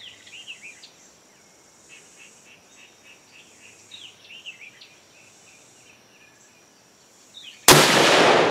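A rifle fires a single load of 41.0 grains of Ramshot TAC powder, one sudden very loud close shot near the end after several seconds of outdoor quiet with crickets and birds.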